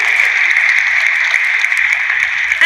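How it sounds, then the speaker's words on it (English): Audience applause for the Leela hotel staff at a stock exchange listing ceremony, a steady dense clapping wash held at even loudness throughout, heard through a thin, radio-like sound. "putting our hands together in a huge round of applause for each and every person here of the Leela family"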